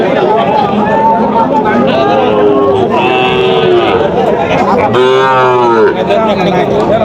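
Cattle moo repeatedly amid a busy livestock market crowd at Garobazar, with people chattering and calling out in the background throughout; calves are present.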